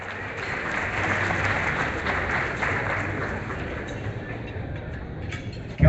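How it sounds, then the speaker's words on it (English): Applause from a dinner audience at a Toronto political party gathering, a steady dense clatter of many hands held for about six seconds, with no speaking over it. "Please give her a warm applause."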